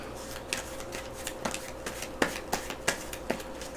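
Dark Souls board game cards shuffled by hand, giving a series of soft papery snaps and flicks in an irregular rhythm, close and quiet, with no one talking.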